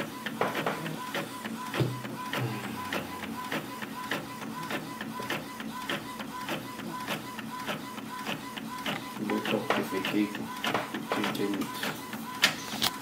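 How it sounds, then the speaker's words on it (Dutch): A printer runs steadily at a moderate level with a repeating mechanical rhythm of clicks and whirring, a brief low rumble near the start, no talk. "Dat gaat dus uit deze mooie printer komen."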